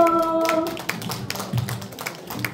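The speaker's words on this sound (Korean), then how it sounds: "큰 박수." An audience applauds inside a hall at a forum anniversary ceremony, a brief patter of clapping hands that thins out after a moment under faint voices.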